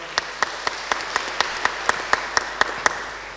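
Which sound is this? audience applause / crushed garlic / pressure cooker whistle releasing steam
audience applause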